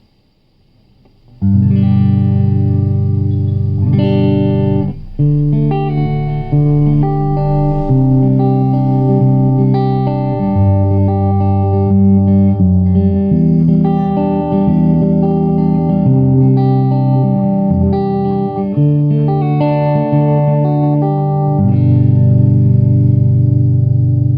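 A warm, clean PRS SE Standard 24 electric guitar on the neck pickup plays a sustained chordal passage, close and full-bodied, with slight chorus-like shimmer and no voices.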